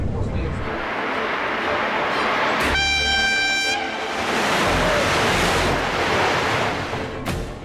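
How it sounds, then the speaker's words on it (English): A Sapsan electric high-speed train runs along the track at 200 km/h with a steady, loud rushing roar. A sustained horn blast sounds for about a second midway through. "The train driver guides the Sapsan along the track at 200 kilometers an hour."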